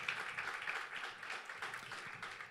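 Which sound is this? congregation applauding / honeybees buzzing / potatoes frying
congregation applauding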